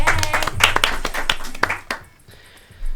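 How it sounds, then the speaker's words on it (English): A small studio audience claps for a guest on a live show, with a few loud, distinct hand claps in an irregular rhythm. The clapping stops partway through and is followed by near silence. "Give her a round of applause"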